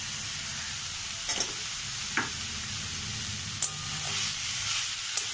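Spices being fried and stirred for Bengali radish ghonto (mulo ghonto), a continuous close sizzle with a few sharp spoon scrapes and clinks against the pan.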